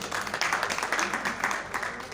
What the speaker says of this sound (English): I think we should clap for CSOs.